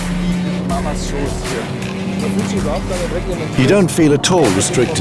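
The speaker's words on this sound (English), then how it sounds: "One lap on the Nürburgring Nordschleife in the new BMW M3 is so fast." New BMW M3 sedan lapping the Nürburgring Nordschleife at full racetrack speed, its engine a sustained droning roar that rises near the end, with someone talking over it.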